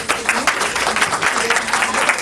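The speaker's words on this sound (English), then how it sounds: "Once more, big round of applause to all the kids." An audience at a cultural center gathering gives the children a round of applause, steady dense clapping from many hands throughout, fairly close and even.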